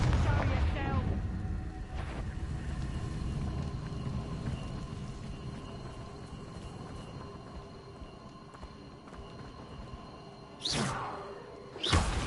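Confringo blasting curse in Hogwarts Legacy: a loud burst and rumbling blast at the start that decays into a long low roar, with a second sharp crack near the end.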